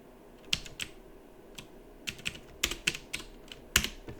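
A mkdir command is typed on a computer keyboard: sparse, uneven keystrokes in small bursts, crisp and close in a quiet room, with no talk.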